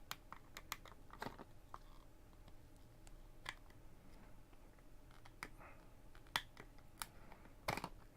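Small plastic tabs on a Game Gear game cartridge snapping and clicking as the casing is pried open, faint scattered sharp clicks at irregular intervals with a few louder snaps near the end.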